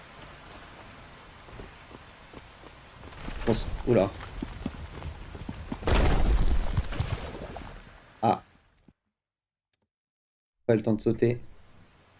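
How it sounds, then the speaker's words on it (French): Stormy rain from the video game Eternal Hope, a steady wash of downpour with bursts of louder gusts or thunder-like swells, dropping to near silence before returning briefly, with a voice speaking over it. "Vu les bruits, il y a une tempête."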